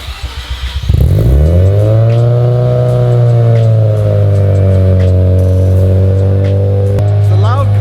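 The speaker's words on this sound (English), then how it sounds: "It's a loud cold start anyways." A drift car engine cold-starts loudly after a few cranking clatters, then settles into a steady, heavy, close-up idle that drones on to the end.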